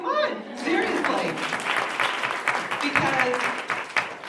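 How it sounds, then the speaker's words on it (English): Audience applause at a talk on board service, a burst of clapping from the crowd mixed with a speaker's voice talking over it. "You should clap."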